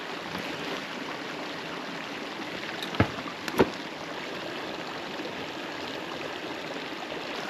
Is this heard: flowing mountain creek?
yes